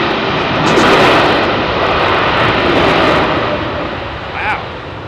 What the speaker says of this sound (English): British Airways Dreamliner giving it a load of beans on the reverses, so much so that so heavy on the brakes there